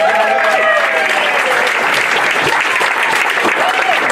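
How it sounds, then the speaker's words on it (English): Loud, sustained applause from a magic show audience fills the whole stretch, dense clapping with some crowd noise and a few voices woven through. "Give him a big round of applause."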